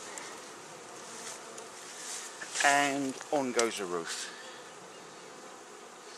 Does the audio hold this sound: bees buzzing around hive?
yes